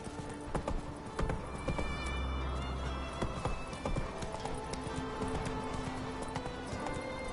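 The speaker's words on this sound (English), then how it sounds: "Run, Roach." Hoofbeats of a horse galloping in The Witcher 3 video game, a steady rapid clip-clop close by with occasional heavier thuds, continuing throughout without talk.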